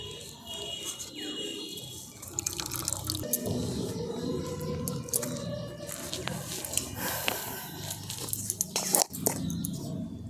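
Water drips and trickles as it is squeezed and strained out of grated potato and ginger in a kitchen, with small irregular splashes and wet squelching close by, fairly quiet throughout.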